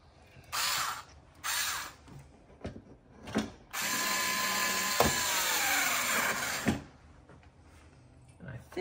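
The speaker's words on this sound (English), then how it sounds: "I think my drill is dying." A cordless drill with a failing battery whirs in several short bursts driving screws to fit a carbon fiber front grille on a C8 Corvette, then runs one longer stretch that strains and slows, with ratcheting clicks at the end.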